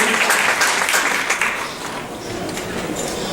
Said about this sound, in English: Round of applause for Giratina for having a tough life, making it through.